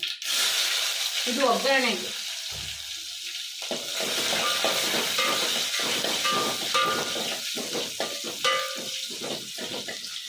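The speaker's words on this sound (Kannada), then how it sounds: "ಆಮೇಲೆ ಈರುಳ್ಳಿ ಹಾಕ್ಕೊತಾ ಇದ್ದೀನಿ" Onion hisses and sizzles loudly in hot oil with fennel seeds, a continuous frying crackle that carries on beneath brief spoken words.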